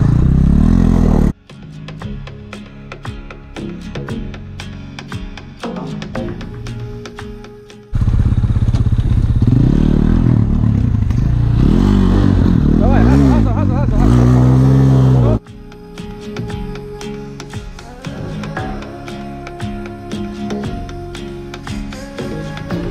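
A Chinese enduro motorcycle, a Kovi Lite 250, revs loudly, shifts gear and pulls away. The engine rises and falls in surges under outdoor wind and engine noise, with voices heard around it.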